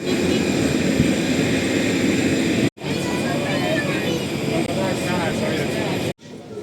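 Airliner taxiing after landing at Hurghada, a steady loud engine roar heard from inside the cabin, broken by a brief gap, with a cabin announcement spoken over it.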